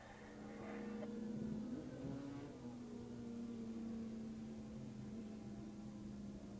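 Racing motorcycles in an AFM Formula 1/Open Grand Prix at Willow Springs Raceway in 1985, a faint sustained engine drone that shifts pitch as the bikes approach down the straight, heard at a distance.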